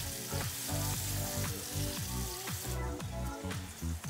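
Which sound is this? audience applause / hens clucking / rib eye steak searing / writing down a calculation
rib eye steak searing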